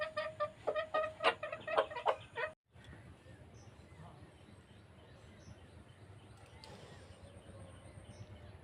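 Chickens cluck and squawk close by as old flour is scattered for them, a busy burst of calls over the first couple of seconds, then fading to faint, sparse clucks over low background rumble.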